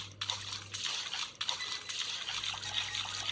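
Water trickles and dribbles steadily in the Granny horror video game, a close, continuous liquid patter with slight surges, no talking.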